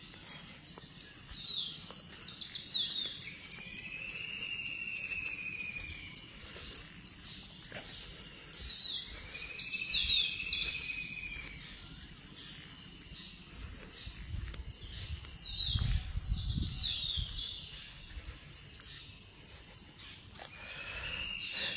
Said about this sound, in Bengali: এই সকালবেলা হচ্ছে অনেক ধরনের পাখি ডাকাডাকি করে